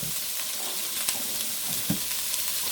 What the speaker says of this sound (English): So then you put in that celery and onions, because they're a little softer.